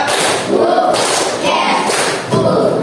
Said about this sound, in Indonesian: Tepuk 1, tepuk 2, tepuk 3, tepuk 1, 2, 3